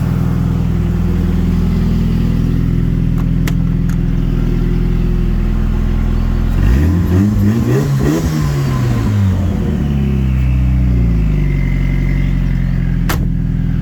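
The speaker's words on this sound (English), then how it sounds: "Give it a rev." A Ford Escort Mk2 with a leaned-out engine and exhaust cutout open idles loudly with a deep, throaty exhaust, then revs up sharply and falls back to a rumbling idle.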